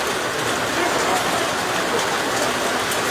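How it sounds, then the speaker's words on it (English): Steady downpour at a campground, a broad, even rain hiss that stays loud and unbroken, with a faint voice beneath it. "Rain always gets heavier before it gets lighter."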